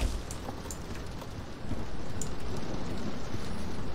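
In the Roblox horror game Doors, blood rain falls as a steady, dense hiss of rainfall with low rumbling beneath it. It grows slightly louder partway through, and no voices are heard.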